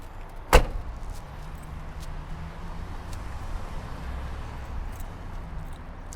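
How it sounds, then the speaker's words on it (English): The hood latch of a 1993 Ford Lightning pickup with a 5.8 liter engine gives a single sharp, loud metallic pop near the start, then a quiet, steady background follows. "And let me pop the hood."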